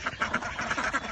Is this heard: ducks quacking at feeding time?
yes